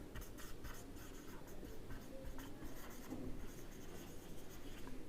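During a physics lecture on vectors, a pen or marker writes on a board, making quiet, continuous scratching strokes that go on steadily for several seconds, faint and with no talking.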